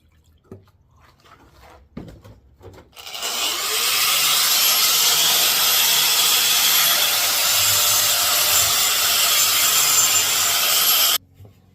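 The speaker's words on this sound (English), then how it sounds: "Let's add a little bit of water to keep the dust down and get back to more grinding." A power grinder whines steadily against wet solid rock while carving a stone bowl, loud and close, after a few faint knocks, then cuts off abruptly.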